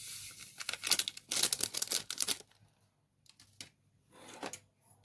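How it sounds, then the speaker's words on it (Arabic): A yeast packet is torn open and emptied onto flour, with sharp crinkling paper rips in bursts followed by quieter rustling, close and alone. "وهفضي عليها كيس خميره،"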